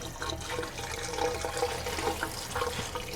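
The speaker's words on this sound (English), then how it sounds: "I'm using our handheld shower wand. Hot water blasts everything clean." A handheld shower wand sprays hot water to rinse an RV toilet bowl, a steady close hiss of splashing water with gurgling, continuous throughout without talk.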